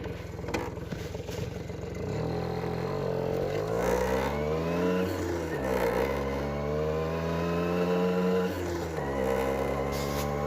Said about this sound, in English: This is the glorious AT50 on its way, just about to set off for its MOT.